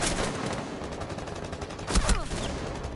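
Rapid automatic gunfire rattles through a Black Ops 4 Zombies match, with dense repeated shots throughout and a louder burst of blasts near the end.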